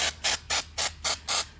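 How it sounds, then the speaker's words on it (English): ColorTEX flurry snow spray from an aerosol can shot very close onto a silk flower, six short hissing bursts in a steady rhythm, each about a fifth of a second, loud and near with brief pauses between. "because it's a silk flower, I can spray very closely and just kind of shoot it"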